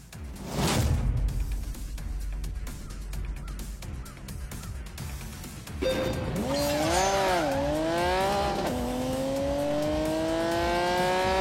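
Race cars lap a track, engines rising and falling in pitch as they sweep past, loud and continuous with revving swells and gear changes.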